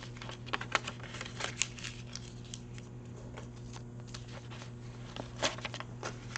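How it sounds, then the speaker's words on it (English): Paper being crumpled by hand and dropped into a box during a live online auction, giving soft crinkling and rustling bursts over a steady low hum, close and fairly quiet. "We're going to crumple them up, put them down in there."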